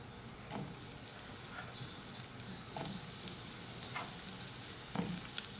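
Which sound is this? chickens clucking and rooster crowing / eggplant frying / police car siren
eggplant frying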